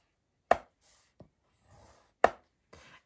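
A scoring tool presses crisp score lines into paper for a mini notebook cover, with two sharp taps followed by soft scraping strokes, quiet and close.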